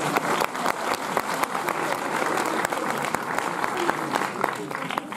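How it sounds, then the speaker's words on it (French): Cinema audience at a UGC Bercy screening applauds a young man from the crowd, steady dense clapping lasting throughout at moderate distance, with speech faintly underneath. "On peut applaudir Mathieu."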